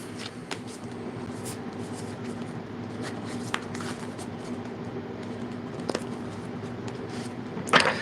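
Tarot cards are shuffled continuously by hand, a soft papery rustle close by with occasional sharper flicks and a brisk burst of handling at the end, and no voices.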